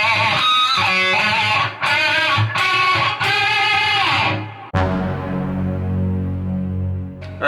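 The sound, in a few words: electric guitar playing section of a solo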